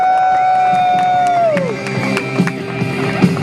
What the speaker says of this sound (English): One more big round of applause. Let these drivers here make some noise.